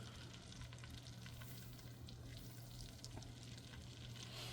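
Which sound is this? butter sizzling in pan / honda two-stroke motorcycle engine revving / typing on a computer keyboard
butter sizzling in pan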